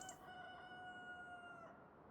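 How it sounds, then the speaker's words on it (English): A rooster crows in the Farming Simulator 25 game, one long drawn-out cock-a-doodle-doo with a clear harmonic call that holds steady and fades near the end, heard alone over a soft constant background hiss. "there's the cockerel."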